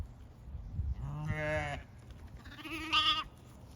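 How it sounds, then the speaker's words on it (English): Newborn lambs and ewes bleat in a barn, two clear, close calls in a row, the first lower and longer, the second higher and wavering. "So let's check out these lambs."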